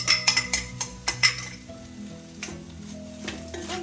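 Mashed tomato and rice stirred in a pan: several sharp spoon clinks and scrapes in quick succession, then softer wet stirring under a light sizzle.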